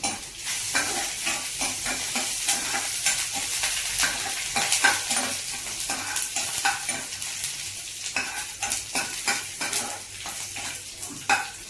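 Garlic with green and dried chilies sizzles steadily in hot oil for a bottle gourd curry, with a constant broad fry hiss broken by frequent clinks and scrapes of a stirring spoon against the pan.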